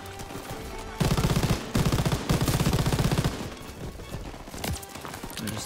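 Rapid machine-gun and rifle fire bursts loudly in a Call of Duty: WWII battle, dense rattling volleys from about one second on, then thinning to scattered shots amid battlefield noise.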